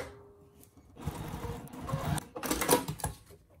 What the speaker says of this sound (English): I'm just going to top stitch that, or stitch that down, back stitch at the beginning and the end